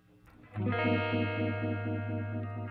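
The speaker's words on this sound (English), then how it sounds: "We're going to go to a phaser right here." Phaser setting on a Walrus M1 modulation pedal: a sustained, distorted guitar chord enters after a half-second, with a slow rhythmic sweep pulsing through the held tone, loud and upfront.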